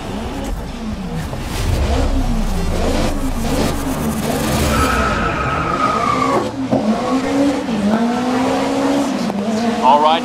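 Race cars in Grid 2019 roar off the line at a race start, engines revving and rising in pitch with tire squeal and skidding, loud and close, with voices talking over the engine noise.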